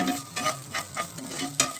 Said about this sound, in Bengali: এটাকে অনেকবার ভালোভাবে নাড়তে হবে